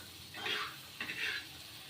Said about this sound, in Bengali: আর এখানে মাংসের মশলাটা আমি কষিয়ে নিচ্ছি ভালোভাবে